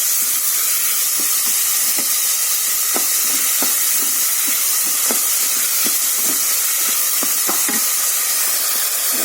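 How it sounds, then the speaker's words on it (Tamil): Onions sautéing with curry leaves in a pan while cooking brinjal gothsu for varagu rice pongal: a steady bright hiss of frying with scattered soft crackles and pops, close and uninterrupted. "வெங்காயம் நல்லா வதங்கணும் அதில் கொஞ்சம் கருவேப்பிலை போட்டிருக்கேன்"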